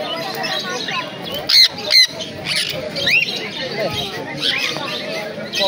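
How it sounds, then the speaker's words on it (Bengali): Cockatiels at a bird shop give sharp, repeated squawks and chirps over a busy background, with people talking nearby. "আচ্ছা এখানে ককটেল রয়েছে"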